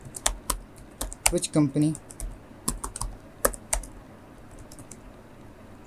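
Computer keyboard typing while HTML code is written, with sharp, close, uneven key clicks in short clusters and pauses, and a brief spoken phrase in the middle.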